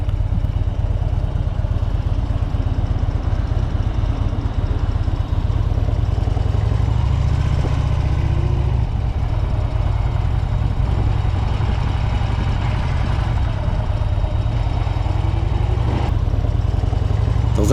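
Custom motorcycles set off on a ride, a steady, heavy low engine drone rumbling continuously and close, with faint clatter and wind noise riding over it.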